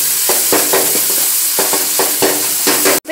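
Onions and tomato sauté in a pan with a loud, close sizzle as a spatula scrapes and stirs in a repeated rhythm, ending in a sharp clatter.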